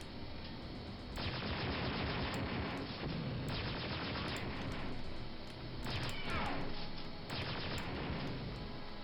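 Blaster fire hits enemies and turrets in Star Wars: Dark Forces, with repeated sharp bursts and crashing impacts in rapid clusters over a steady, loud game background.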